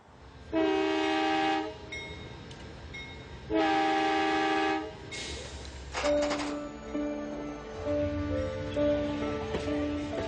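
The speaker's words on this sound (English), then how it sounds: "I'm catching the night train to Chicago" A night train bound for Chicago sounds two long, loud horn blasts, followed by the rumble and clatter of the moving train and more horn tones, close and dominant with no talking.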